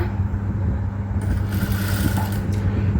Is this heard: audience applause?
no